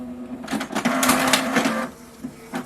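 A home printer feeding and printing a page for a craft project, with a motor whir and rapid clicking bursts in the middle, then quieter mechanical ticks near the end, close by with no talking.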